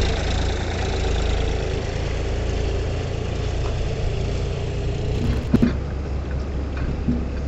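A three-cylinder, two-wheel-drive tractor engine idles steadily at a road construction site with a deep, continuous low rumble, loud and close, with a brief clunk near the end.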